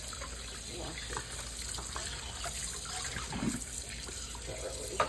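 Tap water runs steadily into a sink while a whole raw chicken is rinsed, a continuous close splashing gush with slight shifts as the bird moves under the stream.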